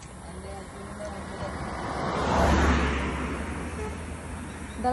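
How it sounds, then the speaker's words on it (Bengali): A car approaches along a road on a rainy day, its faint rush swelling to a peak and then fading as it passes, with people talking nearby. "দেখো ওইদিকে গাড়ি আসছে"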